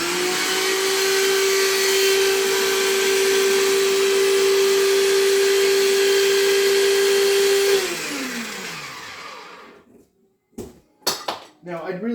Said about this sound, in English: I really do need to invest in a better food processor